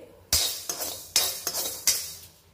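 Fenugreek seeds dry-roasted in a pan for a carrot pickle, a spoon or spatula scraping and knocking against the metal in about five sharp strokes with a light rattle of seeds, close and clear with no speech.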